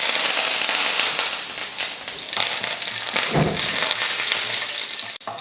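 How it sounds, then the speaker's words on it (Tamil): Mustard seeds, a dried red chili and curry leaves crackle and sizzle loudly in hot oil as a tempering for toor dal chutney, a dense burst of pops that thins slightly before a final sharp spit. "எண்ணெய் காஞ்சதுமே கொஞ்சம் கடுகு, ஒரு வரமிளகா, கொஞ்சம் கருவேப்பிலை,"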